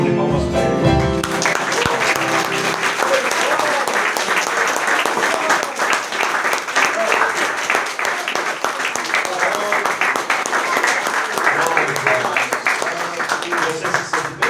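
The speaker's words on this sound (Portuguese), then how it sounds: "Vamos dar uma salva de palmas para Ele." A church congregation breaks into sustained applause, dense and steady from start to finish, with voices mixed in under the clapping.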